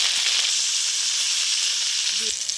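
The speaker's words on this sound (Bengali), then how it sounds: "তো কড়াইতে তেল দিয়ে দিচ্ছি, শুকনো লঙ্কা দিয়ে দিলাম, গোটা জিরে দিয়ে দিলাম, ফুলকপিটা দিয়ে দিলাম" Cauliflower pieces sizzle in a hot wok of oil with dried red chilli and whole cumin, a constant close, bright frying hiss with a small clank near the end.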